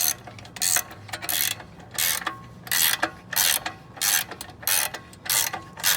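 Ratchet strap being cranked tight on a motorcycle hauler, a series of repeated loud ratcheting clicks in bursts at a steady rhythm, close by with no talking.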